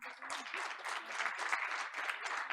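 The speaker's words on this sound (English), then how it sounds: "Audience, please give them a warm applause one more time." Audience applause at a school board of education meeting's award presentation, a steady wash of many hands clapping at moderate distance, sustained without break and with no talk over it.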